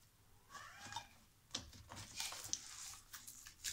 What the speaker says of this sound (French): c'est Raymond, le chat, qui manifeste une envie d'aller sur la terrasse, je pense